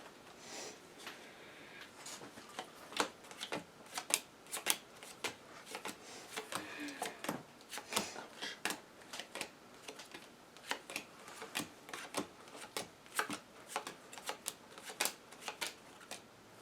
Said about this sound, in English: I shuffle the rest into my deck